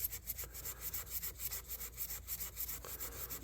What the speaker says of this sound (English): Kind of shows you what sandpaper does and doesn't do.